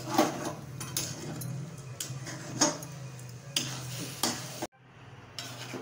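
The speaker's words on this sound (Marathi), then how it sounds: "आता चॉकलेटी रंग येईपर्यंत आपल्याला हलवत राहायचं." Onion being stirred while it roasts in a pan for spicy kanda-lasun chutney, repeated scraping strokes of a utensil against the pan over a soft sizzle, close, with a brief pause near the end.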